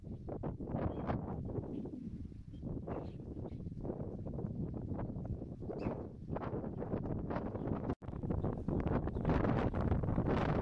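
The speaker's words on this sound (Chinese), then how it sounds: "好大风，沙沙风声不绝于耳。" Strong wind blows steadily across the coast of Po Toi Island in Hong Kong, by the sea and surrounded by hills, making a loud, continuous rush of buffeting microphone noise that drops out for a moment near the end.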